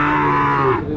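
A local cow at a Mallikbari cattle market gives one long, close, loud moo, steady and drawn out before tapering off near the end.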